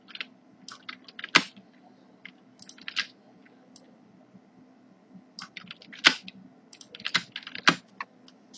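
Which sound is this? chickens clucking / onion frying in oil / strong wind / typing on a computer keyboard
typing on a computer keyboard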